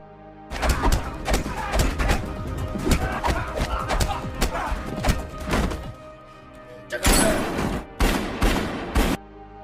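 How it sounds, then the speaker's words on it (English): Rapid bursts of gunfire crackle back and forth, dense volleys in the first half, a pause, then another loud burst and a final shot. "the two of them started exchanging gunfire"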